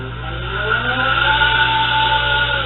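A Ferrari 458 Italia engine drones steadily at high revs, a loud, sustained tonal whine with a slight rise in pitch, sounding muffled and band-limited, with no voices.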